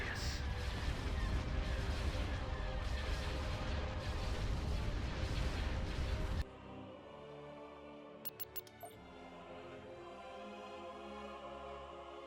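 Heavy artillery and weapons fire from a Star Wars strategy game, Empire at War mod Thrawn's Revenge, roars in a dense, loud barrage for about six seconds, then cuts to a quieter rumbling battle with a few sharp bursts.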